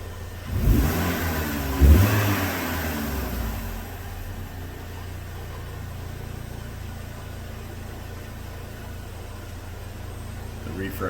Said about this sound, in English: I'm going to snap the throttle.